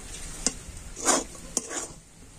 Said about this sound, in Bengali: আর এখন আমি নাড়াচাড়া করে একটা ডো তৈরি করে নেব।